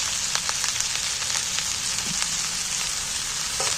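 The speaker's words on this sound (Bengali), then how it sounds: "এইবার সবগুলোকে আমি একসাথে নাড়াচাড়া করে ভেজে নেব।" Chicken with turmeric fries in a pan and crackles in a dense, steady sizzle. Scattered pops and the scrape of stirring come through close and loud throughout.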